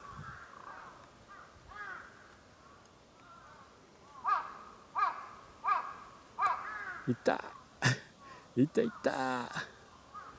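A crow caws several times in clear separate bursts, growing louder and more insistent toward the end, with a person talking quietly in between and an Irish Setter nearby.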